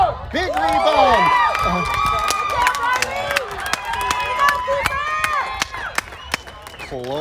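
Youth soccer crowd in Minnesota cheering after a goalkeeper's save, with high excited shouts and whoops rising and falling over scattered clapping, loud and close, then gradually settling down.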